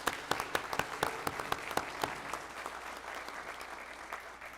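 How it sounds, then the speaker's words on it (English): Audience at an honor society induction ceremony giving a round of applause, crisp individual claps that start strong and gradually thin out and fade. "Let's give them another round of applause."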